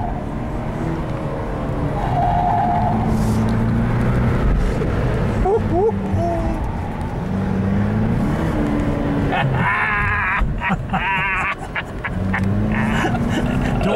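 A turbocharged car at an autocross run revs and pulls hard, a loud rising and falling engine note with shifting pitch, tire noise and excited voices mixed in.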